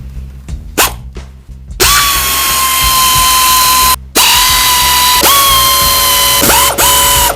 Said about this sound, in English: I'm going to loosen up all these screws using my pneumatic wrench and an 8 millimeter socket.